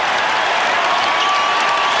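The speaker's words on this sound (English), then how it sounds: "An ovation for the new 6th man." Basketball arena crowd giving an ovation during a Suns vs Mavericks game, dense sustained applause and cheering filling the space, loud and continuous with no distinct voices.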